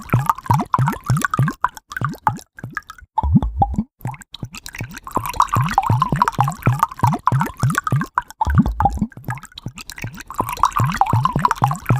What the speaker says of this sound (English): we witness the change of juice, fresh lubricating synthetic engine oil